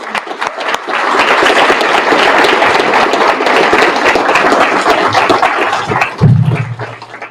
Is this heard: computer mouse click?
no